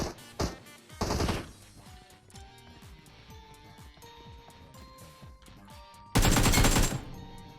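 Bursts of automatic gunfire in a PUBG-style battle royale game, with two loud, dense volleys near the start and a heavy close burst near the end, separated by quieter scattered clicks and distant shots.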